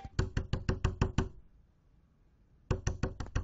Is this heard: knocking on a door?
yes